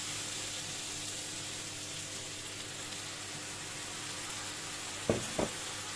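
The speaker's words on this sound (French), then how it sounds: "je vais rajouter ma marinade. Donc c'est le vin blanc avec le jus de citron et les épices thaïlandaises." White wine, lemon juice and Thai spice marinade hissing over vegetables in a hot pan, a steady soft sizzle throughout, with two quick clinks near the end.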